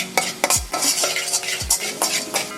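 Food sizzling in a pan with sesame oil, steady frying hiss with spatula stirs and scrapes recurring every half second or so, close and fairly loud, no voices.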